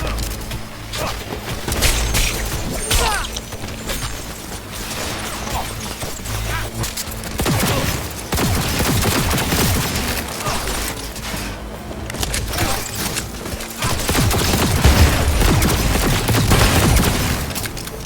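Gunfire and explosions from a Cyberpunk 2077 firefight crack in rapid bursts with heavy booms and clattering impacts, loud and continuous, with a voice occasionally breaking through the din.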